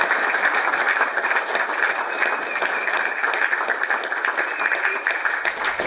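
Audience applause after a political talk by Christopher Monckton, a loud, dense, sustained round of clapping from a crowd that holds steady for several seconds.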